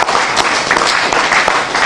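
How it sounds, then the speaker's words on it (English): Loud, dense applause from an audience at a Parliament House of Ghana event announcing the Democracy Cup 2025, a continuous burst of clapping close by, with no talking. "give them a loud clap"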